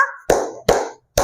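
Children clap hands in a counted rhythm, giving three sharp, close claps spaced under half a second apart, with a brief voice just before the first.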